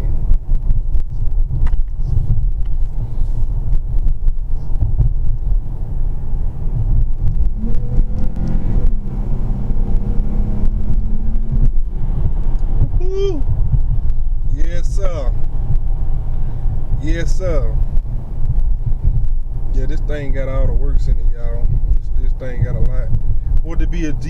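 A 2019 Dodge Charger GT on the road, heard from inside as a heavy low engine and road rumble with wind buffeting throughout, while voices talk over it in the later part.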